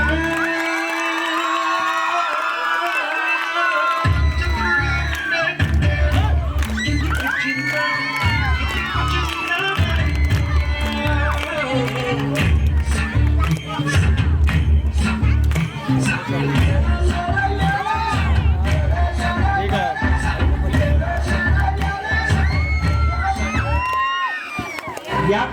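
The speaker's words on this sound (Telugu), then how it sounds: "Claps claps claps." An audience at a school dance performance by students claps and cheers loudly, with rhythmic applause, shouts and whoops from children over music that keeps playing, after a brief quieter start.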